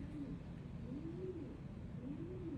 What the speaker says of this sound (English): I hear birds outside almost.